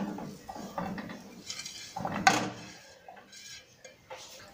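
Diced potatoes going into a frying pan with oil and onion, clattering and clinking of a utensil against the pan in short, irregular bursts, fairly close with quiet gaps between.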